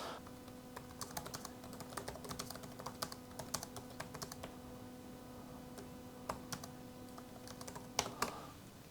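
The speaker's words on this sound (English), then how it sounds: "It's got a medium-sized keys and they are relatively quiet and sounding keys with nice soft recall, and they're quite quick." Quiet, soft keystrokes on a Dell Pro 14 Plus laptop keyboard tap out in quick irregular bursts, close and alone, over a faint steady background hum.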